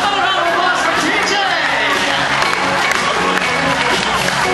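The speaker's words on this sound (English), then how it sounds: "How about a round of applause for TJ?" Cruise ship welcome show audience applauding a contestant, dense clapping mixed with cheers and crowd chatter, sustained and loud throughout.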